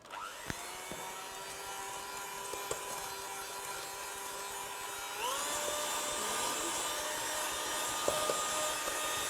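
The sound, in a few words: electric mixer mixing cookie dough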